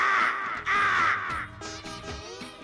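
A voice imitates a crow, giving several loud, harsh, nasal caws in a row with short gaps between them.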